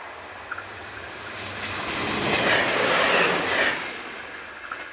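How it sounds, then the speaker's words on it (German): A test train on the railway line returning from Lindau passes by, its rolling rumble swelling from a distance to a broad roar and then fading away, with no voices. "Den Testzug sehen wir jetzt nochmal auf der Rückfahrt von Lindau."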